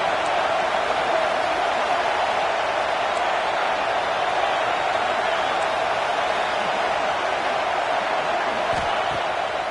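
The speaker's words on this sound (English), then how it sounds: "Decibels rising as the crowd gets behind this defense on third down." Football stadium crowd roaring in a steady, dense wall of noise as fans back the defense on third down, sustained and loud for the whole stretch with no clear break.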